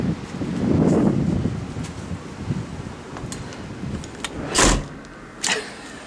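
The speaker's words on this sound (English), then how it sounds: "The wind that's blowing through here when I open this door." Wind gusts through an open door on a trip to Tybee Island, a steady rushing rumble that swells early, then carries a few sharp rattles and thumps near the end.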